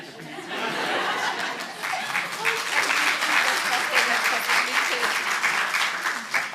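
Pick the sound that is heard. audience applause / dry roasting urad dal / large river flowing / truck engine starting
audience applause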